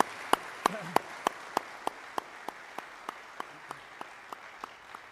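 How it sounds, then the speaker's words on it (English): At a military change of command ceremony in the Washington district, sharp claps land in a slow, evenly spaced rhythm, about sixteen in five seconds, gradually softening over a quiet background. "Please join me in another round of applause."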